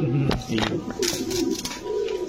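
Pigeons for sale coo close by, with a few quick bursts of wing flapping as a lively bird is handled, while someone talks over them.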